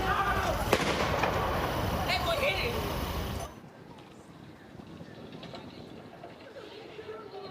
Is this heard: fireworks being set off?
yes